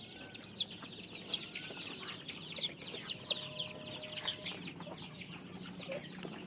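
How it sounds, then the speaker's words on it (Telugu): Native village chickens and breed chicks for sale cluck and peep continuously at moderate distance, with overlapping calls from many birds and occasional wing flutter against a busy farmyard background. "ఊరుకోడి పిల్లలు ఉన్నాయి తక్కువ ఉన్నాయి, జాతి కోడి పిల్లలే ఉన్నాయి దీంట్లో ఎక్కువ."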